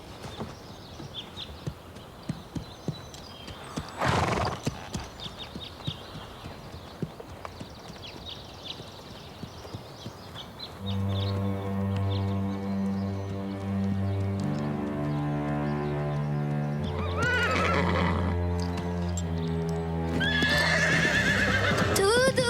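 A horse named Prancer, a temperamental mare, clip-clops with light hoofbeats at first, then gives a long, loud whinny, followed by more neighing and a snort near the end.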